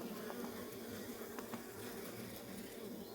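A dense, steady buzz of bees fills the air, constant and close, with faint brief clicks and no voices.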